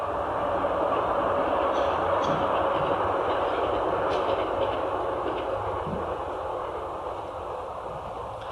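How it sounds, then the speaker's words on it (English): A train passes at a moderate distance, a steady rolling rumble and rattle of rail cars that holds evenly for several seconds, with no voices. "To listen to that train that went by"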